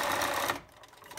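A sewing machine runs a straight stitch on a shaped fabric face mask, a steady close-up whirring burst that cuts off about halfway, leaving faint room sound.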